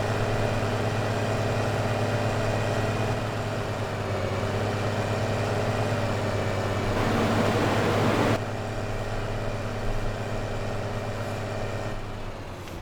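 A tractor engine in the video game Farming Simulator 15 drones steadily at idle, a low continuous rumble with a brief rise in intensity partway through before settling back, heard alone without talk.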